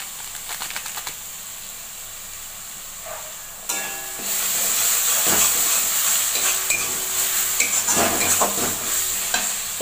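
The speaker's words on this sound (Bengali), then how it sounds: "নুন দেওয়ার পরে এবার আমি এটা আবার কষাবো।" Spices being stir-fried in a pan for a fish roe curry. A quieter stretch of scraping breaks into a loud, continuous sizzle and hiss with intermittent stirring scrapes, close by and without talking.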